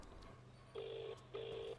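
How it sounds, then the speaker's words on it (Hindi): A phone call rings through the handset with two even, quiet tone pulses, each about half a second long and separated by a short gap of line hiss. "एक मिनट, मैं एक फोन कर लेता हूँ।"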